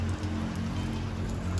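Rain falling in Kashmir on the road from Srinagar toward Drass, a brief steady wash of patter with a low constant hum beneath it and no voices.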